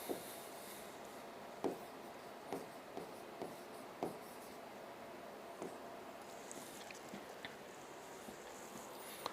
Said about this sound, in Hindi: यहां पर तो अपन लिख लेते हैं ब्लड ग्रुप